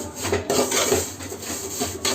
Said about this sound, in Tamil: அதுலேயே கொஞ்சம் சேமியா போட்டு நல்லா சிகப்பு பொன்னிறமாக வதக்கிக்கணும்.